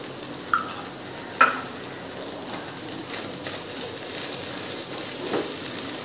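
Chili powder being stirred into a beans and egg fry in a pan, with soft scraping of a spoon against the metal, a few light clinks and a faint background sizzle at low level.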